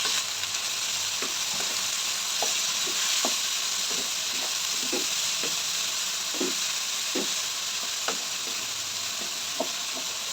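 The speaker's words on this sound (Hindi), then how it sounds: "पालक को हम अच्छे से फ्राई करेंगे।" Spinach frying in a pan with egg and potato for a breakfast dish gives a steady close sizzle, broken by frequent short scraping and stirring knocks, with no talking.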